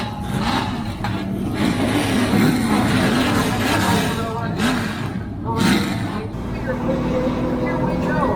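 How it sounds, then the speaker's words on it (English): Race truck engines at New Smyrna Speedway rumble and idle together after the start command, a thick, wavering roar with some revving, under loud crowd noise and an announcer's voice. "drivers, start your engine."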